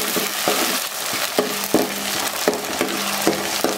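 Tomatoes and onion frying in a pan, a steady bright sizzle with periodic sharp scraping knocks of a spatula stirring, close and loud, no voices.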